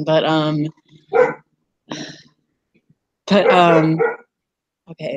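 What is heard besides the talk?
dog barking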